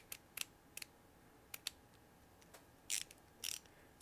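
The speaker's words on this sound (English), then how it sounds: "The ratchet action is really smooth." A Vessel ratcheting screwdriver clicks faintly in short, irregular bursts of light metallic ticks, separated by quiet pauses.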